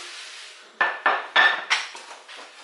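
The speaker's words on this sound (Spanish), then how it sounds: "Vamos a remover todo." A spoon knocks and scrapes around a pot while Cuban arroz con pollo is stirred, with four or five distinct clanking strokes in quick succession, close and clear with no voices.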